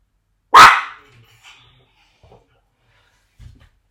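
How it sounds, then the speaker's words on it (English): A single loud dog bark close by, then near silence with a few faint small thumps and rustles. "She's just gonna bark more when she gets to the door."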